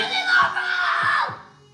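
A child screams in a short, high, strained burst that trails off, loud and close against a noisy room.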